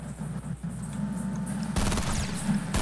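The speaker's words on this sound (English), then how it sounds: "it's a burst weapon" Gunfire crackles in a Fortnite match, and a sharp, loud burst-fire weapon cuts in partway through, rattling in rapid clustered shots over steady background battle noise.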